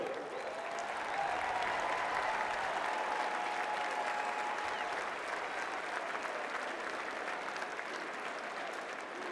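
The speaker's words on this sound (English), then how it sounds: "Please give a round of applause for Commander Paul Waters." Broad crowd applause at a Clemson military appreciation day presentation in a stadium, steady and somewhat distant, continuing evenly throughout with a faint murmur of voices beneath.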